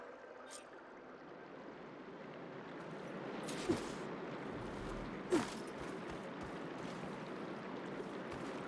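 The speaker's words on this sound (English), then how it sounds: "I can hear water in the room again" Water flows through a room in Horizon Forbidden West as a steady, fairly faint rushing wash, broken by two soft thuds, while a voice speaks over it.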